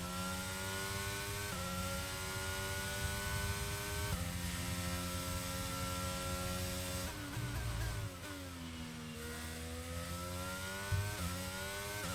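An F1 race car engine in the F1 22 video game at the Bahrain Grand Prix, a high-pitched whine that climbs repeatedly through gears, dropping at each shift, with a deeper dip and recovery near the end.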